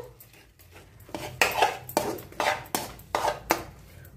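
Homemade khoa is stirred in a metal pan with a spoon, producing a run of quick scraping and clinking strokes in an uneven rhythm, close and fairly clear.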